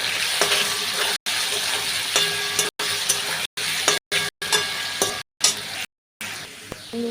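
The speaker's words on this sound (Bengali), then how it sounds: "আলুগুলো ভাজা হবে।" Potato pieces fry in hot oil seasoned with salt and turmeric for a vegetarian ghugni, giving a steady close sizzle with stirring scrapes, broken by several short silent cuts.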